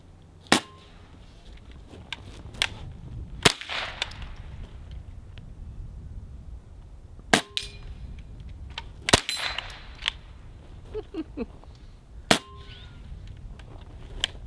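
Suppressed Benjamin Armada air rifle shots ring out as a series of sharp, separate cracks spread across the stretch, some with metallic ringing from steel targets, over a steady outdoor background with no speech.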